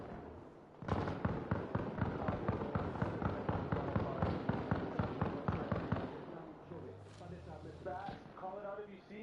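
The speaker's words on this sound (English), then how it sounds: "But we got AK fire right on our fucking doorstep, right here." Rapid AK rifle fire in Arma Reforger rattles as a fast, steady run of sharp shots for several seconds, then tapers off, with people talking over the end.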